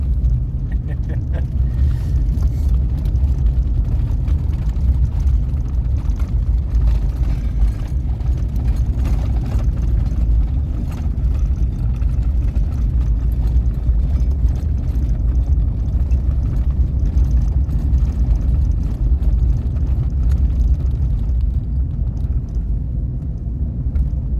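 A car on a loose gravel back road, a steady low rumble of tires and engine with a constant crunchy roar throughout, close and unbroken.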